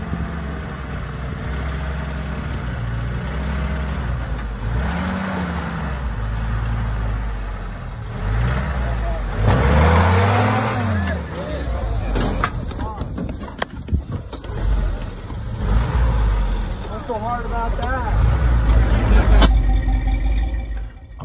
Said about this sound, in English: Show all our Jeeps climbing this obstacle.